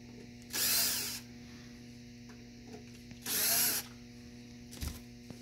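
A power screwdriver removes screws from the top plate of a Milkmate 2005 unit during repair, heard as two short whirring bursts close by, with quiet pauses between and no talk.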